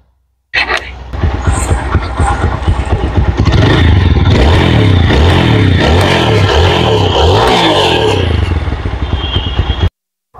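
Second-hand TVS Apache RTR 160 4V motorcycle started after a short silence and revved repeatedly, loud, close and raspy, with rising and falling engine pitch for about nine seconds before cutting off.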